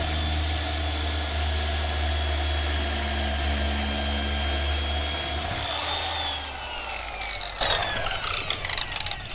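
A dual-action sander with 80-grit paper grinds bubbly rust spots on a car body down toward bare metal, running as a steady, loud, continuous whine with a droning hum, its pitch dropping midway before a brief scuffing burst near the end.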